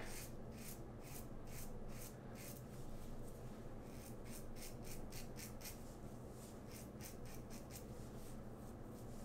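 A RazoRock Game Changer 68 safety razor scrapes slowly across lathered facial stubble with light pressure, giving a steady run of close, rasping strokes in regular bursts with no talking.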